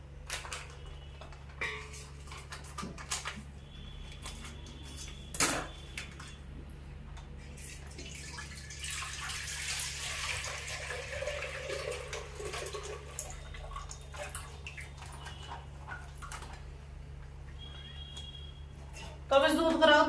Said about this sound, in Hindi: अब दूध पलट लेती हूँ इसमें भगोने में